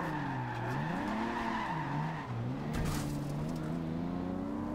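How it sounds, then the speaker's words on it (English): A Nissan Skyline 2000GTR drifts in Forza Horizon 2, its engine note rising and falling in wavering sweeps while the tires skid across a few seconds of continuous, close, loud driving. "Okay, let's try and get this drift in."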